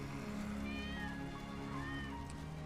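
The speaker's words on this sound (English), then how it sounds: "That's Wedge's cat." A cat in the Final Fantasy 7 Remake video game meows twice in drawn-out, wavering cries over a constant low background hum, fairly faint and with no speech over it.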